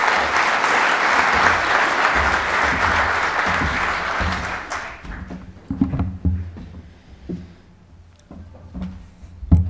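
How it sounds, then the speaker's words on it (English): A lecture audience applauds to welcome a speaker, loud, full clapping for about five seconds that dwindles into a few scattered claps and small handling knocks. "So now, again, to a warm round of applause, I invite Moncef Kartas."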